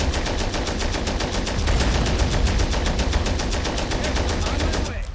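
Sustained machine-gun fire in the World War II strategy game Men of War: Assault Squad 2: rapid, evenly spaced bursts of shots, loud and continuous for about five seconds before cutting off at the end.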